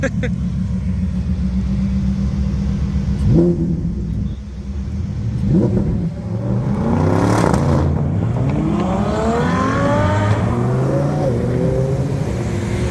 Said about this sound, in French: le Urus, il fait un bordel, les gars. La 812 aussi.